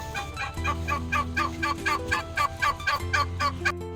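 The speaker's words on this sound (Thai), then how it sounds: "เป็ดเล่นน้ำ โหเป็ด" Farmyard fowl at a rural Thai home with ducks, chickens and pigs, a close run of rapid, evenly repeated gobbling calls in bursts over about four seconds, with no talking.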